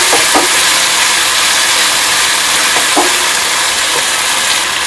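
Chilli paneer sauce of vinegar, chilli sauce and tomato sauce stirred in a hot pan, a steady loud sizzle with a few soft scraping strokes of the spoon.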